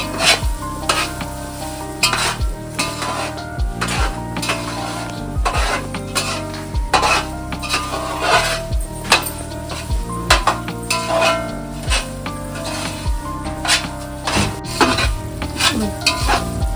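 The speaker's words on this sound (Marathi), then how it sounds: "रवा चांगला भाजून घ्यायचा." About 1.25 kg of semolina (rava) roasts in a pan for Satyanarayan puja prasad, with a ladle scraping in rhythmic, repeated strokes over a soft sizzle. Occasional metal clatter sounds throughout, close and loud.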